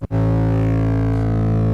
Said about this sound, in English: really you're just dialing in the intensity of the Berzerk effect